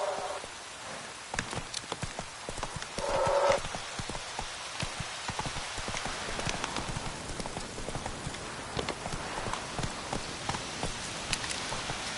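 Horse hooves clip-clopping at a quick steady pace in The Witcher video game, a continuous rhythmic run of hoofbeats close by, with soft rain-like patter and ambient game sound underneath.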